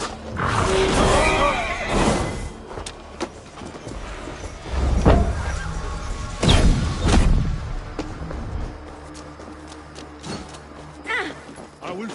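A horse whinnies amid busy Assassin's Creed Valhalla battle action, with clattering hooves, impacts and voices talking over a steady background.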